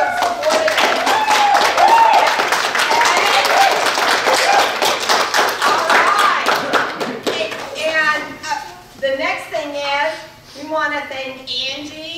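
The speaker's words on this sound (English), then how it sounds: "So I want a big round of applause for all the parents and people who have supported us." Loud applause from a crowd fills the first several seconds, then thins out as children's voices and chatter rise over scattered claps.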